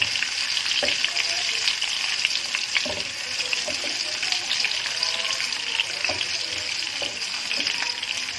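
Carrots and almonds frying in a pan for a Kashmiri mutton dish, a constant bright sizzle with occasional soft stirring clicks throughout, loud and close with no voices.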